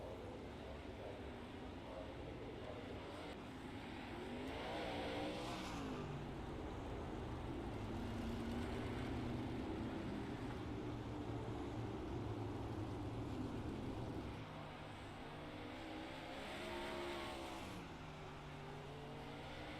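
Race cars accelerate around an oval track at a racing league night, engines swelling and fading in long rising sweeps as the pack passes, with crowd and track ambience underneath.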